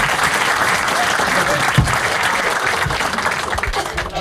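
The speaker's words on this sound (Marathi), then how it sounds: "छान एकदा टाळ्या होत्या यासाठी." A stand-up comedy crowd gives steady, dense applause throughout a Marathi comedy show, with a brief loud clap peak near the middle and a few voices mixed in over the clapping.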